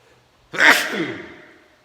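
A single loud sneeze up close, a sharp burst that trails off quickly into quiet.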